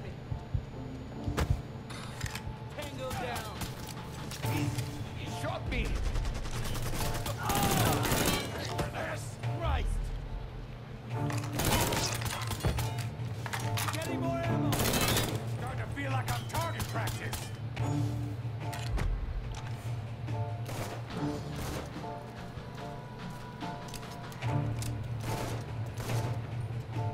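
Repeated bursts of gunfire in the video game Mafia III, sharp loud shots and clattering volleys scattered through a busy game soundscape, with voices talking over parts of it.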